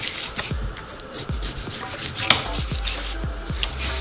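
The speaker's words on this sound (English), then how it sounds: "just take your knife and cut the skin right off" A kitchen knife cuts the skin off a melon on a board in a series of close, firm knocks and scraping slices. The strokes come at an irregular rhythm of roughly one per half second, with no voices.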